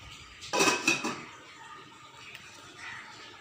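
A metal lid set onto a pot of boiling jaggery gives a couple of quick close clanks and rattles, followed by faint background noise.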